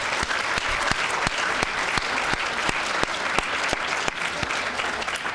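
An awards-ceremony audience at the Brighton SU Excellence Awards claps steadily, a thick wash of applause with sharp individual claps standing out close by.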